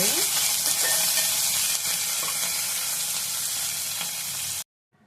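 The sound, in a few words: frying tempering with curry leaves on low flame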